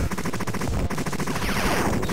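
Dense, rapid volley of missile blasts in a video game barrage, a continuous rattling stream of explosive pops with no clear gaps, loud and close throughout.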